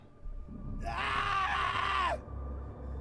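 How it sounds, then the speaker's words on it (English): A loud, sustained scream from the back row of a movie theater rises over low background noise and lasts about a second, then cuts off, leaving a faint murmur. "Suddenly, we heard screams coming from the back row."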